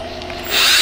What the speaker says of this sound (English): We are just gonna go through here and drill the holes that Transgo says to drill